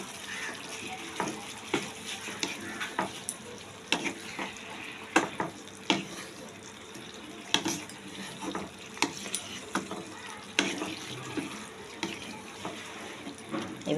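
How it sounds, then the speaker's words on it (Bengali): Mushroom curry with ghee is stirred in a pan, with repeated scraping clinks of a spoon over a soft, steady sizzle and bubbling, close and moderately loud, with no talk. "ঘি দিয়ে মিশিয়ে এবার নামিয়ে দেবো।"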